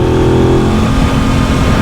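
An Aprilia RS660 sport motorcycle with stock exhaust drones loud and steady at close range, a throaty exhaust rumble held at an even pitch.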